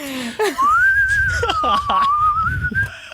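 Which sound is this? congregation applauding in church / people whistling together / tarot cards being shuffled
people whistling together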